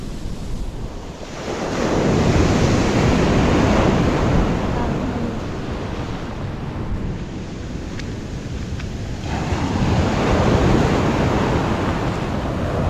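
Ocean surf rolls onto a beach at Dingalan in broad, loud, continuous washes. The surges swell and ease over about thirteen seconds, with heavy wind buffeting the microphone.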